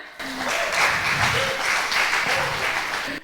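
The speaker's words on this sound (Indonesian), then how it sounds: "boleh berikan tepuk tangannya?" A short, steady burst of audience applause at a book launch and discussion event, starting abruptly, staying even and full throughout, and cutting off just as suddenly.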